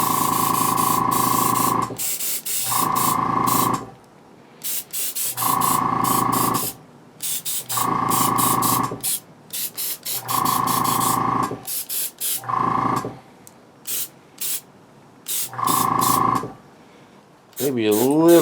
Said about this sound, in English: So I'm going to turn up the air pressure on my airbrush.